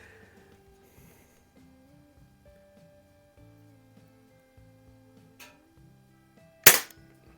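Tech Force TF-79 .22 CO2 target rifle, a Beeman QB-78 type, firing after repairs: one sharp, loud crack near the end, preceded by faint tonal background music and a small click.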